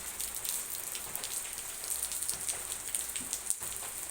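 Heavy rain pours down on 13 March 2026 as a dense, constant hiss of drops on surfaces. It is fairly close and steady throughout, with no voices.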